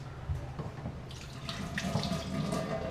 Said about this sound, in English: Wash your hands and give this a good mix up of everything in there.